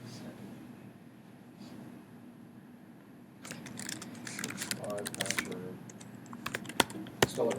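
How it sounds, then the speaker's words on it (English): Fast clicking keystrokes on a computer keyboard start midway and continue in irregular bursts close to the microphone, after a quieter stretch of faint background noise. "something's funky with your keyboard. I have to press everything twice."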